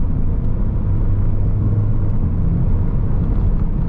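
A Rover 75 Tourer diesel estate with a Jatco automatic gearbox pulling hard on the road, heard from inside as a steady, loud low engine drone and road rumble, without speech.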